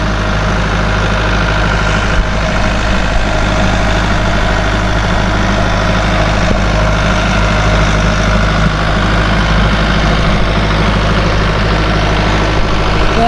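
A loud, steady low-pitched tractor engine idles close by on a homestead, rumbling with an even drone and faint mechanical rattle throughout.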